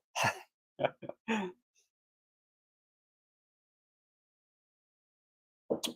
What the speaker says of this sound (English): Let me get a drink here so I can catch my breath.